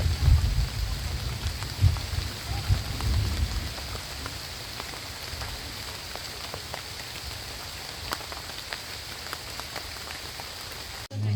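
Heavy rain pours steadily in a mountain forest, a dense hiss of drops pattering on surfaces, louder at first with low rumbling, then a constant even downpour.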